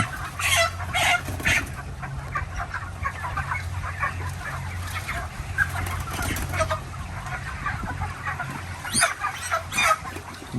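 Thirty-two-day-old broiler chickens cluck and murmur together inside a poultry farm in Malaysia, a dense, continuous flock chatter with scattered louder squawks and occasional wing flaps over a low background hum.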